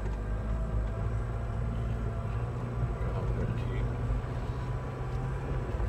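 Off-road vehicle engine labouring and revving on a rocky track at the Mundaring Powerlines rock garden, a deep rumbling drone with wheel spin and gravel crunch underneath, steady and close throughout.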